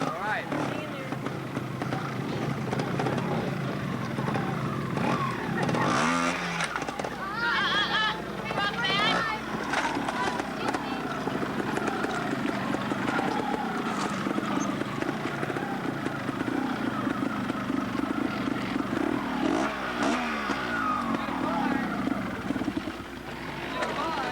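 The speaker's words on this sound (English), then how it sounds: "And a shift into third gear to get Jordy out of there." A trials motorcycle at the 1990 Observed Trials World Championship round in Globe, Arizona, its engine droning steadily, then revving and rising in pitch through gear changes as it climbs a rocky section, with voices heard over it throughout.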